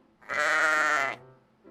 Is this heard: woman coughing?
no